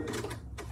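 A Janome sewing machine cutting its thread gives a short, close mechanical whirring clatter, lasting under a second.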